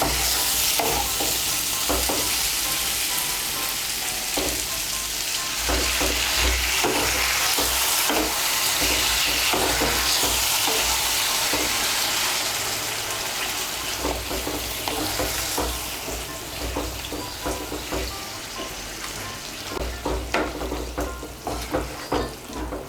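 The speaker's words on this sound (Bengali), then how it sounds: "এখন এর মধ্যে আমি জল দিয়ে দেব।" Water is added to potatoes and pointed gourd frying with spices in a pan for a Bengali curry, giving a loud, sustained sizzle with repeated scraping stirs throughout and no talk.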